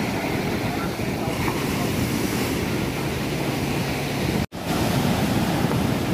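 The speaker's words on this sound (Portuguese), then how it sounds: "praia de Ipanema." Surf breaking on Ipanema beach in Rio de Janeiro at sunset, a steady loud wash of waves with wind buffeting the microphone and a brief dropout near the end.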